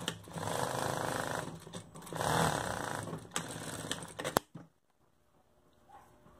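Sewing machine stitching the hem of pet shorts, a steady mechanical whir running loud and close for about four seconds in bursts before cutting off to near silence.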